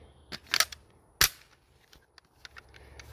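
A Manchester Arms Mini Commando Mark 45 Tommy gun clone fires a few sharp reports, a quick pair then a single louder bang, followed by fainter clicks and mechanical rattles.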